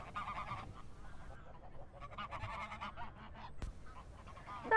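Ducks quack in a fairly quiet, busy cluster of calls that continue steadily, heard alone without speech.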